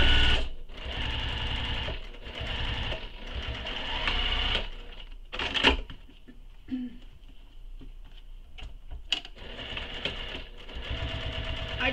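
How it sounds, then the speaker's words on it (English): A sewing machine runs decorative freeform stitching on a small crossbody bag, buzzing in several bursts of rapid stitching broken by brief pauses and clicks. "I'm going to do some fun stitching"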